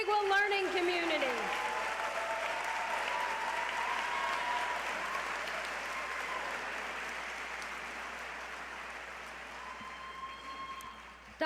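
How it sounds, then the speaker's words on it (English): A crowd applauds warmly and steadily at a medical school white coat ceremony, the clapping gradually tapering off, with a voice speaking briefly over it at the start. "A round of applause for the Canandaigua learning community."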